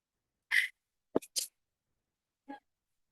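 One person sneezes sharply in a quiet room, with a short burst, a quick double sneeze and a faint sniff after it.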